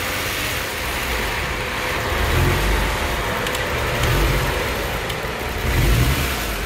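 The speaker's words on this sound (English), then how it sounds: "It's keeping a bit of a rev going." A Kia Stinger GT engine, a gasoline direct-injection unit undergoing intake carbon cleaning, is held at a slight steady rev, a continuous mid-level engine hum with a few gentle swells.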